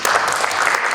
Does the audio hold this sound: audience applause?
yes